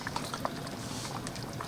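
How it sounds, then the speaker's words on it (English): Tapioca starch and water slurry pours into a simmering beef stew, a steady soft bubbling and liquid patter with a few small splashy blips, close and fairly quiet, no voices. "So I've got some tapioca starch that I've just mixed up with some water. I'm just going to pour some of that in."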